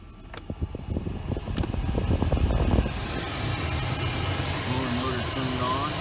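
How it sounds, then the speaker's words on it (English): A 2011 Jeep Grand Cherokee blower motor cycles through its fan speeds with a steady whooshing airflow that shifts in pitch, while a person talks over it. "Blower motor turned on, full speed. And it's working through all speeds."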